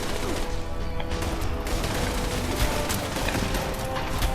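Rapid turret gunfire in the video game Fallout 76, a dense continuous burst of shots and impacts lasting the whole stretch, loud and close.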